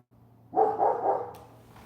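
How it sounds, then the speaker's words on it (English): A dog named by its owner barks in a short burst of three or four close, loud woofs indoors, with a steady low hum underneath. "he keeps barking on that side"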